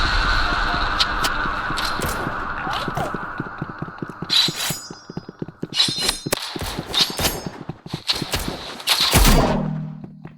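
Revolver fire in the video game Rivals: a dense stream of rapid, sharp shots and clicks in quick bursts, with other game effects mixed in and a loud sweeping effect near the end.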